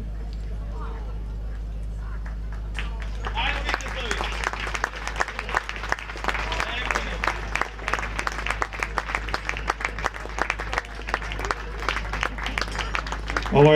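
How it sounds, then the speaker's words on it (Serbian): An audience at a choir festival concert applauds a national mixed inclusive choir. After a few seconds of near quiet over a low hum, dense, steady clapping from the crowd fills the rest of the clip. "Ovo je aplauz i hvala"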